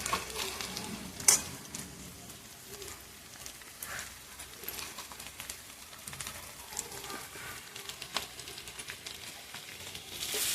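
Vegetables seasoned with red masala and salt sizzle in a hot pan as they are stirred, giving a soft, steady crackle with occasional scrapes and clinks.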